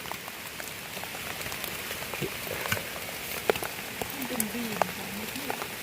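Rain falls steadily during a wet night outing to catch fish, a dense even patter on surfaces with scattered nearby drips and knocks, and a faint voice-like sound drifting briefly in the background.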